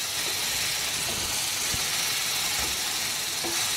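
Ridge gourd chutney ingredients sauté in a pan with added salt, giving off a steady, even sizzle and hiss with a few soft stirring knocks throughout.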